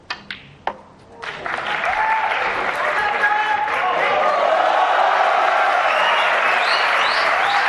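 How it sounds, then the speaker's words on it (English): After a few sharp clicks of snooker balls, the crowd at the Saudi Arabia Masters 2024 final breaks into sustained applause that swells and holds, with a commentator talking over it. "Crowd loving it."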